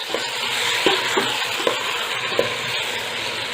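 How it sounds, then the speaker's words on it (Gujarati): Valor beans, papdi and fried vegetables for Kathiyawadi-style undhiyu being stirred in a pan, with a soft continuous sizzle and several distinct scraping clanks of the spoon against the pot. "વાલોડ, પાપડી અને આ ફ્રાય સબ્જીના ભાગનું મીઠું ઉમેરીશું। બધું સરસ હલાવી લઈશું।"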